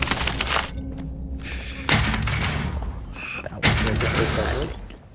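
Bursts of gunfire in Call of Duty: Modern Warfare come in three loud clusters separated by short lulls, mixed with thuds and mechanical clatter, with voices talking over the action.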